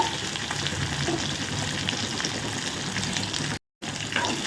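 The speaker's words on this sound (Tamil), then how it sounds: "வெங்காயம் நல்லா வதங்கட்டும்" Finely chopped onion and quartered green chili sauté in oil with curry leaves for a beetroot curry, producing a dense, even sizzle close by with a brief dropout near the end and no talking.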